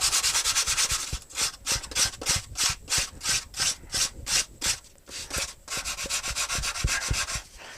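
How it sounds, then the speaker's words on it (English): Foam being sanded by hand with sandpaper on a board: a steady series of close, rhythmic rasping strokes, roughly one or two per second, with no talking. "if you just try sanding that off like that"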